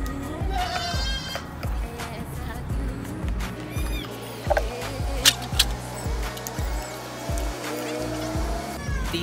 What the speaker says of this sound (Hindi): ये दूसरा बकरा इसकी डीवर्मिंग करने लगे हैं।